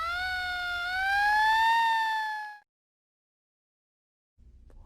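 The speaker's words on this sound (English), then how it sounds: "Or a siren." An emergency siren wails with a rising, sweeping tone for about two and a half seconds, then cuts off abruptly into silence.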